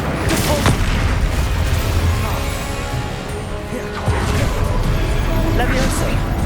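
Incendio and Depulso spells are cast in the Hogwarts Legacy video game, each landing as a heavy booming burst with crashing impact noise, loud and close over a constant background of game sound.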